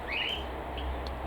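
Cockatiels calling in an outdoor aviary, a single rising, shrill chirp followed by a couple of fainter short calls over a low steady background hum.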